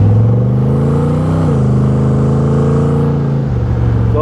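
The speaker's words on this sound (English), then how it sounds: "This should be around 400 horsepower in this small car, and it really rips." A 1959 Austin Healey 100-6 fitted with a roughly 400-horsepower V8 with aluminum heads, Edelbrock manifold, headers and an automatic transmission revs loudly and close by, its steady rumble rising and dipping before settling back.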